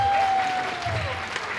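A crowd applauds together at a Chennai event marking a 120-hour, 1000-song continuous singing record, the clapping steady and moderately loud throughout the short burst.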